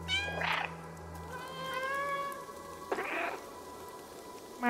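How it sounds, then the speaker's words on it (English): Cats meowing in the video game Stray, several separate meows in turn with a pause between them, fairly close and clear over a faint low background hum. "Oh, they meow back!"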